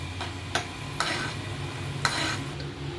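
Basmati rice sizzles and crackles as it fries in a pan, with occasional sharp scrapes of a stirring spoon.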